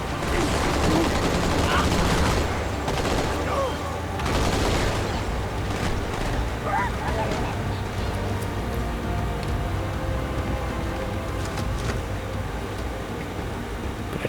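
Enemy gunfire in Halo 2 on the Outskirts level, dense continuous bursts with booming explosions early on, carrying through the whole stretch amid loud game ambience and rumble.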